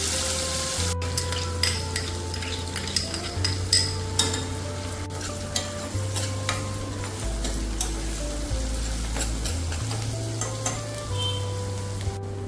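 Onions are added to browned garlic in a pan for a moong dal dish and fry with a steady, close sizzle, broken by light scrapes and clinks of stirring, over a faint tonal background.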